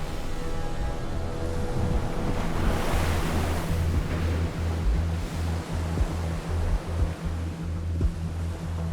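Massive tsunami waves from the 2004 Sumatra earthquake surge and roar as a steady, loud wash of churning water, with wind buffeting the microphone and no voices.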